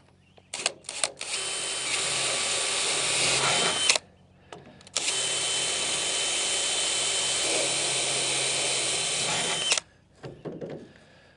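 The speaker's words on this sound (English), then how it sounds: "I'm using the drill bit on this. We can drill right into the forms" A power drill drives its bit into concrete foundation forms, running in two sustained whirring bursts of several seconds each, with brief starts and stops between them, close and loud, with no talking.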